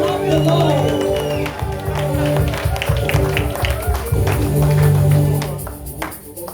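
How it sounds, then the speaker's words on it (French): A church congregation claps along in a steady rhythm during a service, with crowd noise and musical tones under a loud voice leading the worship. "Lord, can we clap for our sister?"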